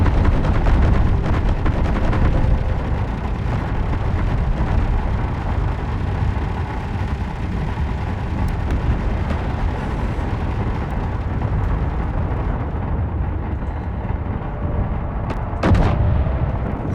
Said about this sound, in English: there goes the railgun